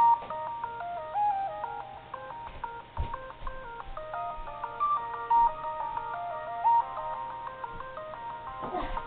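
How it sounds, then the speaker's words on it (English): Phone speaker plays a tinny electronic melody of clipped, beep-like notes in a steady stepping tune, thin and bright with a faint background hum and an occasional bump. "The music that you will be able to hear from my phone."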